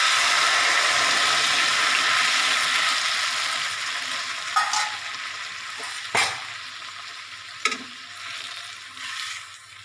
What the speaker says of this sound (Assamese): পানী দি পেলাই এতিয়া মই কেৰাহীত বাকি দিম।